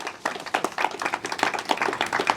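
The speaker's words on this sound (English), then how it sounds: "so please give him a round of applause" Round of applause from an audience at a county executive's Main Street improvement grant announcement, a moderate burst of uneven hand clapping that continues throughout.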